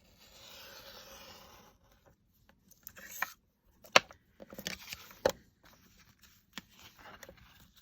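A piece for a handmade book is cut by hand, with soft rubbing and scraping followed by scattered sharp snips and scratchy strokes, quiet and close, with pauses between the cuts.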